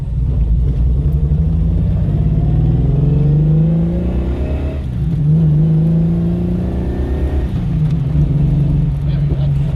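A Holden VK Commodore engine runs rough on four cylinders after sitting for years, a loud, uneven, close rumble with wavering pitch that dips and surges over about ten seconds, with faint voices underneath.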